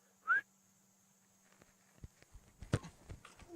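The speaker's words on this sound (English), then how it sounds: "On the whistle." A referee's whistle blown once for a penalty shootout kick at a football match, a short, faint chirp at the start, followed by scattered light thuds and footsteps.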